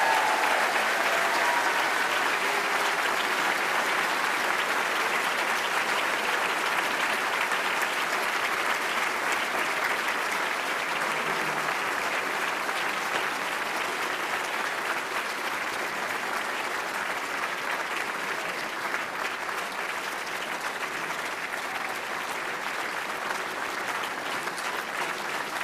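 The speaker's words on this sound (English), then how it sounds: "let's have one final round of applause for our new members and foreign associates" Sustained audience applause at a National Academy of Sciences presentation ceremony honoring new members and foreign associates, a dense, steady wash of many hands clapping that holds loud and even throughout with no speech.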